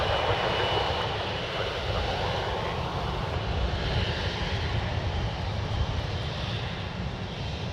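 A Southwest airliner taking off at San Francisco International Airport, a steady, fairly faint broadband jet roar holding at an even level throughout, heard from a distance with no talk.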